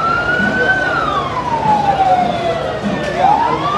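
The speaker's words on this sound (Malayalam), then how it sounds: "എന്തൊരു ആംബുലൻസ്!" An ambulance siren wails with a rising and falling tone as it moves through a crowded Swaraj Round during Thrissur's Pulikali festival, loud and close over the surrounding crowd and traffic noise.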